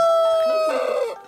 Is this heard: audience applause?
no